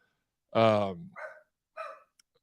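A dog barks indoors, one loud bark followed by two shorter, softer yips, close by against an otherwise quiet background.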